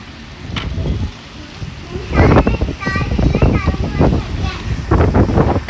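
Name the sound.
strong wind and heavy rain storm in Makkah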